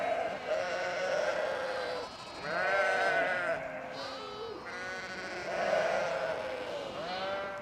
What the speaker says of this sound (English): Had to let the sheep have the last word.